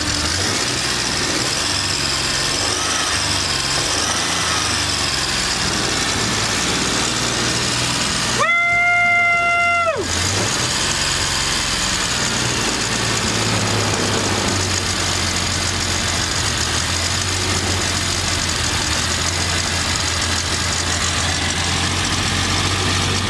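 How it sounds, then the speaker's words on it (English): Idling engine of a Kazuma Mammoth 800 side-by-side, a steady low rumble throughout, with a loud drive-belt squeal about a third of the way in lasting under two seconds before the idle continues alone. "My belt's squealing."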